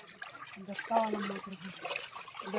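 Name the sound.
rainwater flowing in a stream along a village road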